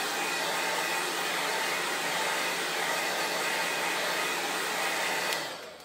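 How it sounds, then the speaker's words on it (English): A blow dryer runs steadily at close range, setting chalk paste on a stencil, its broadband whoosh continuous for several seconds before it cuts off and winds down at the end. "the blow dryer just sets the chalk in so that you can go and do the second spot"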